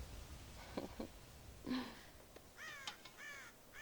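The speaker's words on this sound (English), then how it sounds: "God damn crows!" Crows in Red Dead Redemption give a series of harsh caws, first spaced apart and then in a quicker burst near the end, moderately loud over quiet ambience.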